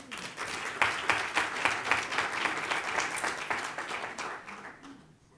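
Audience applause at a workforce development business conference: steady, dense clapping from a crowd that holds for about five seconds before tapering off at the end.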